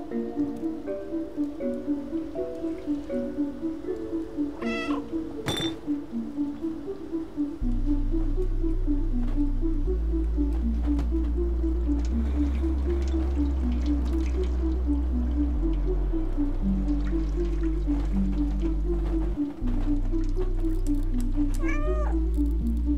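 A cat meows repeatedly in the video game Stray, close and clear over a looping game soundtrack that gains a heavy bass line partway through, with a few sharp chirps and splashy effects.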